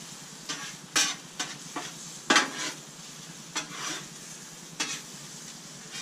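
Eggs being stirred and scrambled in a frying pan for a Southwestern breakfast scramble, a soft sizzle under about eight distinct spatula scrapes and taps against the pan, spaced irregularly and close up, with no talking.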